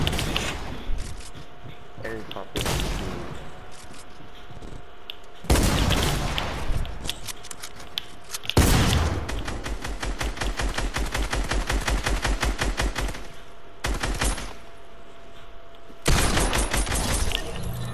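Fortnite gunfire rings out in several sharp, loud bursts of rapid shots, separated by brief pauses, with one long sustained volley in the middle.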